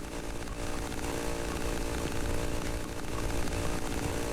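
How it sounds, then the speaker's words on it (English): Chainsaw monster in the horror video game Cry of Fear, a loud, unbroken chainsaw engine roar with a gritty buzzing drone, close and steady throughout. "Wish this chainsaw would stop."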